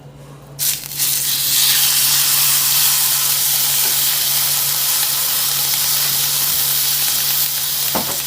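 Steak sizzles loudly in a hot cast iron pan. A brief clatter comes first, then a sustained, close, hissing fry continues without a break, with a small knock near the end.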